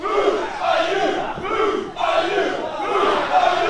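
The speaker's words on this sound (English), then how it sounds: "The crowd, not a fan of Zac Reynolds." Wrestling audience at an adult-rated holiday pro wrestling event jeering a heel, a loud sustained crowd roar of boos and shouts that swells and dips briefly, with no commentary over it.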